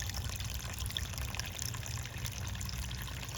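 Creek water runs and trickles continuously at close range, a steady burbling flow with no one speaking over it.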